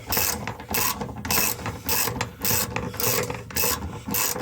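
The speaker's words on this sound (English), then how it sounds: "we're going to go ahead and tighten the tank all the way up on the straps" A ratchet winds the fuel tank strap bolts tight on a 1999 Dodge Ram 1500 during a fuel pump replacement, making rhythmic clicking bursts of about eight strokes, close up with no talking.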